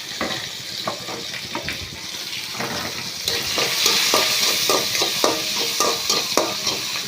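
Sliced large onion dropped into hot oil in a pan for egg curry, a loud continuous sizzle with a rapid run of scraping, tapping stirs, growing fuller in the second half, no speech.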